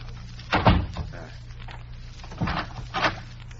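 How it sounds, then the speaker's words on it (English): A door being closed in a stormy old manor house, heard as two dull wooden thuds in quick succession early on, then a softer knock and another thud a couple of seconds later, all fairly close over a low steady hum. "I will close the door."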